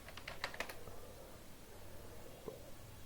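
Quick keystrokes on a computer keyboard, a short cluster of faint clicks followed by one isolated tap against a quiet room background.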